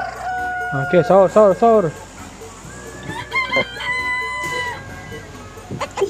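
Chickens cluck and crow inside the mobile game PUBG Mobile, with a burst of loud repeated clucks early on, then higher crowing notes. A voice speaks briefly over the game sounds.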